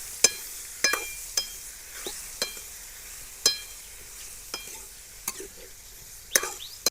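A spoon stirs raw mango curry with onion, green chili and tomato in a pan, giving sharp, irregular scraping clinks against the metal over a soft sizzle. It is close up, with no talking.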